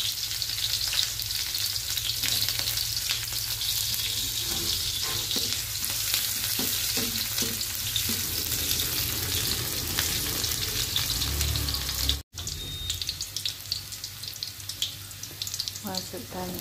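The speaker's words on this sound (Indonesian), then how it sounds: "Kita panaskan minyak, tumis bawang merah dan bawang putih." Shallots and garlic sautéing in hot oil for a shrimp and sausage dish, a steady sizzle of frying with stirring clinks and some running water, close and continuous with a brief break near the end.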